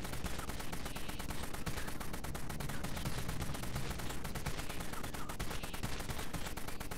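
Dense, continuous gunfire from the Dead Frontier video game, rapid shots running steadily and loudly the whole time, machine-gun style with no pauses and no voices.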